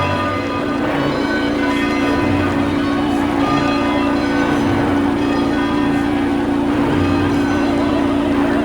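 A peal of church bells rings steadily beneath a low continuous hum, the tones sustained and overlapping in a dense wash with no pauses.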